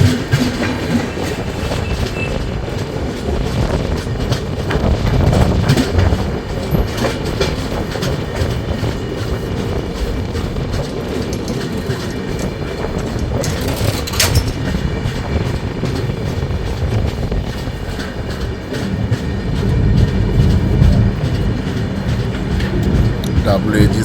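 The 12821 Dhauli Express runs steadily on the Howrah to Puri line, heard from inside an AC chair car: a continuous loud rumble with rhythmic clickety-clack of wheels over rail joints and faint voices underneath.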